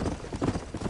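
In the Red Dead Redemption video game, a horse galloping gives quick rhythmic hoof clip-clops, close and moderately loud, over about a second.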